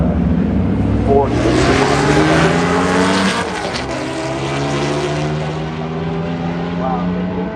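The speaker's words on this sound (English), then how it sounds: "We have a Corvette going up against Corvette in the right lane" Two Corvettes, one a Z06, race from a drag-strip starting line with loud, rising engine roars and shifting revs that stay close and dominant, while voices talk underneath.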